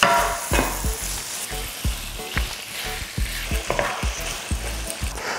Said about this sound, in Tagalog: Lulutuin ko lang ito hanggang sa mag-brown na yung outer part nitong ating beef.